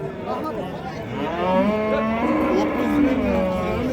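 A cow gives a long, drawn-out moo at a busy livestock market in Andijan, close and loud, with its pitch rising and falling over a murmur of background chatter.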